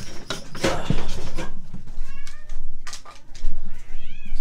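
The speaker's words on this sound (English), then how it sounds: "Hang on, the cat wants out." A house cat meows repeatedly to be let outside, several loud, close wavering cries in quick succession with some background clatter.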